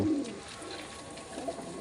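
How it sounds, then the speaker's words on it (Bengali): A single oorai flying pigeon coos softly a couple of times nearby while eating, against a quiet background, low and throaty. "এই পায়রা খাচ্ছে, এগুলো হচ্ছে সিঙ্গেল ওড়াই পায়রা"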